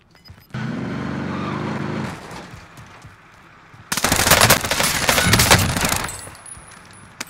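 An LC10 SMG fires in Warzone, with a rumbling vehicle-like drone at first, then a loud rapid burst of automatic gunfire lasting a couple of seconds that trails off into softer shots.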